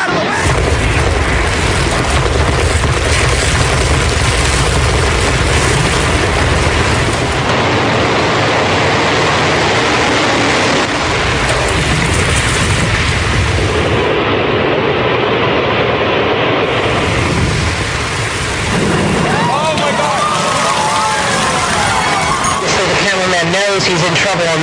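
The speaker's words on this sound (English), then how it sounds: "A huge explosion now raining debris on all of us." A huge explosion at the World Trade Center with debris raining down, heard as a loud, continuous roaring rumble of dense noise that fills the whole stretch, with voices mixed into the din.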